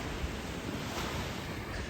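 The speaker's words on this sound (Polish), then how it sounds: "tu jest naprawdę duża powtarzalność tych fal i e, cały czas one się załamują w prawą stronę" Ocean waves break repeatedly toward the right at a surf spot in Sri Lanka, a steady wash of surf mixed with wind buffeting the microphone, no voices.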